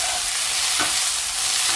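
Gnocchi fry and are stirred in a pan, giving a steady, close sizzle with a brief scrape partway through and no talking.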